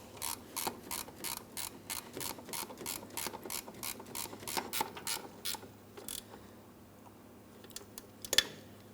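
Rapid, regular ratchet clicks from a torque wrench set to 24 foot-pounds tightening the two mounting nuts on a brake master cylinder of a 2004-2008 Pontiac Grand Prix, close and steady for about six seconds, then a few scattered clicks.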